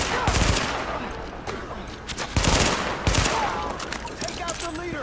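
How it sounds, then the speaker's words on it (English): Gunfire in Tom Clancy's The Division on PS4: repeated loud bursts of automatic fire and single shots from a close-range firefight, with voices talking between volleys. "I shot him in the head like three times and he barely flinched"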